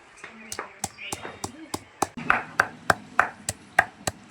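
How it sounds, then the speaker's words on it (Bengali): Green coconut crushed on a stone grinding slab (shil-pata), struck in a steady run of about a dozen sharp, close thuds roughly three per second, with a quiet voice talking underneath early on. "সেই শিলপাটা দিয়ে সবগুলো আস্তে আস্তে করে ছেঁচে নিচ্ছে"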